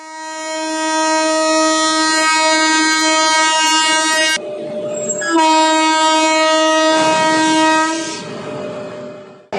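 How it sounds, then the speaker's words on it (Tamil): An Amrit Bharat train sounds its horn at Erode railway station. A loud, sustained tonal blast is followed by a brief break and a second long blast, close and dominant over faint rail noise, with no talking. "ஈரோடு ரயில் நிலையத்தில் சேலம் கோட்ட ரயில்வே மேலாளர் பன்லால் ரயில் புறப்படுவதற்கு முன்பாக ஆய்வு மேற்கொண்டார்"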